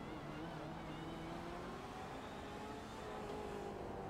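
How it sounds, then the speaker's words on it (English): Race cars, including LMP1 prototypes and a Mercedes GT, drive at Silverstone in iRacing, a faint steady engine drone with a slowly shifting pitch and no clear voices. "as Klockner gets passed by one of the LMP1s there."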